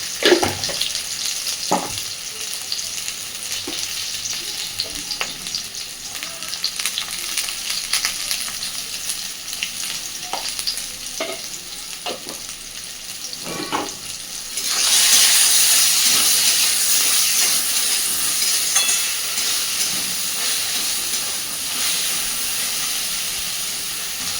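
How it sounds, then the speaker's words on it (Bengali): Taro stolons (kochur loti) frying with turmeric in a pan, a continuous close sizzle broken by scattered stirring clicks, swelling into a louder, hissing fry partway through. "আমি লতিগুলোকে মিনিট দুয়েক এইভাবে ভালোভাবে একটু ভেজে নিয়েছি"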